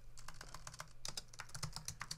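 Rapid, close keystrokes on a computer keyboard, an even stream of light clicks that gets a little denser partway through, with no speech.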